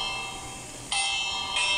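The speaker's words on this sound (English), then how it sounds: "Stop ringing the bell." A small bell rings twice in a home setting, two bright, sustained strikes close by, the second following about half a second after the first, with no talk.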